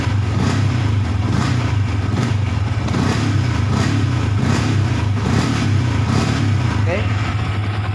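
A motorcycle engine, fitted with a modified lean angle sensor, runs loud and close with a strong low drone that pulses as the throttle is blipped, under a voice.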